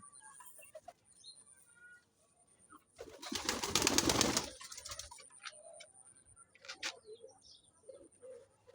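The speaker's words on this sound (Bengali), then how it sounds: "এটা হলো আমার কবুতরের ফার্ম কবুতরকে বিকেলে একটু খাবার দিতে আসলাম" Pigeons at a pigeon farm coo and chirp intermittently nearby, with a burst of loud wing flapping in the middle, all fairly quiet against a calm afternoon background.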